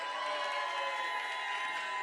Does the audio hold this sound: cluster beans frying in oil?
no